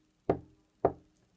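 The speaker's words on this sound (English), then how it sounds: "With a trembling flipper, Mr. Penguin knocked on the door." Two firm knocks on a heavy iron door, evenly spaced about half a second apart, close and clear with a short decay and no other sound.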